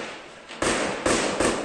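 Sharp gunshots crack out several times in quick succession during a shootout in Rio de Janeiro, loud and echoing, with the first few faint before a louder burst.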